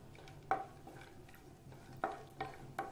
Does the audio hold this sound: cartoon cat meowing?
no